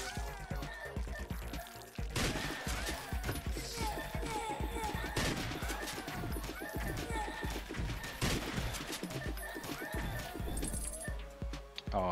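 Rapid rattling gunfire in the bullet-hell game Slime 3K, with shots fired in three directions at once. It is steady and busy throughout, with clinking mechanical pickups and effects layered over a game soundtrack.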